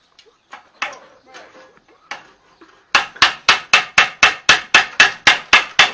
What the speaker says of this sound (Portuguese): Deixa eu bater aqui o prego.